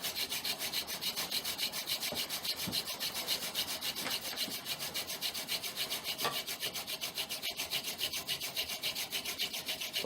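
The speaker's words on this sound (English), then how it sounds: "And we have friction, as we could tell by the sound change." Cedar fire-making set rubbed by friction in a shallow notch, giving a steady, close, raspy wooden grinding that continues without pause in quick, even strokes, with no talking.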